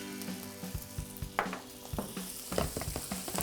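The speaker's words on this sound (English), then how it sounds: "we're gonna get a little bit of oil in here. Mix that with a wee bit of butter." Oil and butter sizzling and frying in a pan as the base for taco soup, steady crackling with stirring scrapes, close and fairly quiet, no talk.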